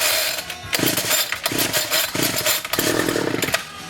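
A small two-stroke weed eater motor, off its trimmer and being prepared for mounting on a bike, revs up close by in loud, buzzing bursts that rise and fall several times, with no talking.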